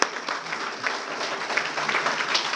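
An audience at an NCC Day celebration claps for the unit staff, a dense, steady round of applause from a crowd in a hall, lasting throughout without pause.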